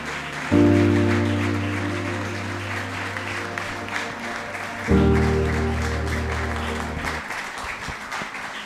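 Clapping from an audience welcoming an apostle at a church gathering, steady broadband applause over most of the span, with low sustained tones from music or a keyboard beneath that restart midway.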